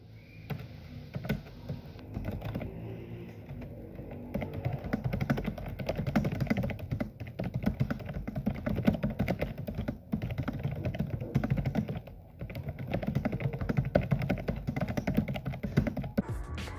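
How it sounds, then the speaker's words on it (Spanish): Rapid, continuous typing on an ASUS TUF Gaming F15 laptop keyboard, close and clear, with a dense patter of key clicks and brief pauses between bursts. "es bastante reconfortante el sonido del teclado"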